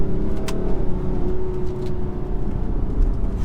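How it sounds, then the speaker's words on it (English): A 2017 BMW X5 M50d diesel SUV drives on the road, its engine giving a loud, continuous heavy rumble and drone from inside the cabin, pitch holding fairly steady with a rising note early on, no talk. "Did actually rev it out there."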